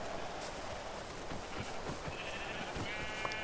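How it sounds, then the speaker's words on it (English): Sheep in the Minecraft video game bleating in short repeated calls over a dense, steady background of game noise, with no speech. "good thing there's some sheep"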